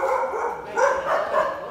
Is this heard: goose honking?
no